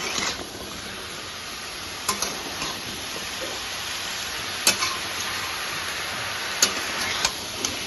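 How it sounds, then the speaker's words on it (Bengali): Vegetables frying in a pan with turmeric and salt give a steady, close sizzle throughout, broken by a few sharp clinks of a utensil against the pan. "একটু হলুদ দেবো, লবণ দেবো, দিয়ে সবজিগুলো একটু ভালো করে ভেজে নেব।"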